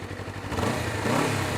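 A Honda CBR250RR motorcycle in sport riding mode revs up nearby: a steady idle swells into a rising, throaty surge that holds loud toward the end, with no voices over it.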